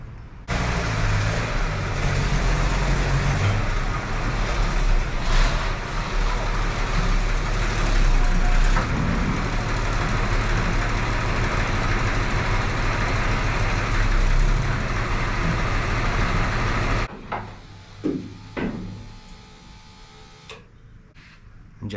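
A 1971 Chevy C10 pickup drives into a garage, its engine droning steadily and loudly for about seventeen seconds before cutting off, leaving brief clanks and knocks in a quiet space.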